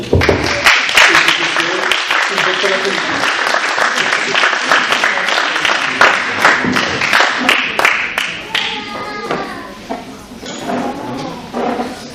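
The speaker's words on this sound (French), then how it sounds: "je pense qu'on peut les applaudir" An audience at an indoor speaking event applauds the speakers, a dense, loud wave of clapping that thins out toward the end as voices take over.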